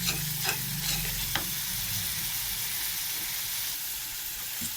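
Masala for a prawn and potato curry sizzles loudly in a pan as it is stirred, with scraping spoon strokes over a continuous frying hiss.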